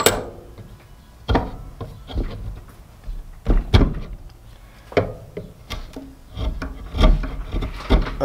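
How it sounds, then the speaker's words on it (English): A steel chisel bites into very hard wood clamped in a vise, giving a series of sharp, irregular knocks and short scraping rasps spaced a second or so apart, close and fairly loud with quiet gaps between strikes. "Let's try putting this in the vise and taking a chisel to it."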